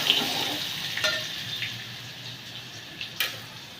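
Garlic, mustard seeds and cumin frying in hot oil, a soft continuous sizzle with a few faint pops and clicks scattered through it.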